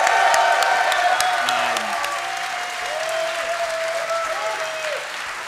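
A live New York audience applauds and cheers at a movie trivia championship. The clapping is dense and loud, thins slightly partway through, and continues under scattered whoops and voices.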